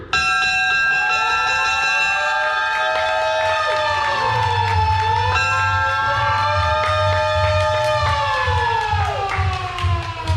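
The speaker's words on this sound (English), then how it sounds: "On three, ring that bell." A bell rings steadily and loudly, its bright metallic tones layered with a wavering, siren-like pitch sweeping up and down over the low rumbling engine of a 2003 Anniversary Edition Harley-Davidson Fat Boy motorcycle.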